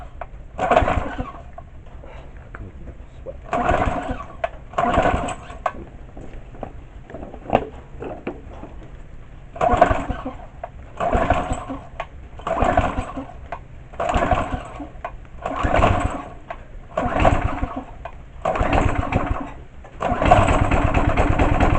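A Tecumseh or Briggs small engine, just repaired after having no spark, is pulled over and sputters to life, surging and dying in repeated uneven bursts before running more steadily, loud and close.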